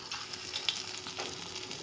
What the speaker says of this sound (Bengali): বড়াগুলো ভাজছি